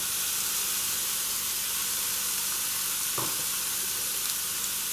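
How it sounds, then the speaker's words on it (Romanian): Onion, pepper and garlic sizzle steadily in a frying pan still holding bits of fried meat, a dense continuous hiss with a brief stir partway through. "În aceeași tigaie în care am prăjit carnea, se vede că mai sunt câteva resturi mici de carne, nu face nimica, adăugăm ceapa, ardeiul și usturoiul."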